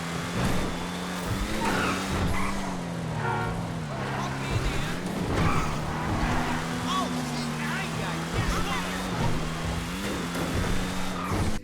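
A car in the video game GTA 5 Online drives with a steady, loud engine drone whose pitch rises and falls gently as it moves, continuing without a break.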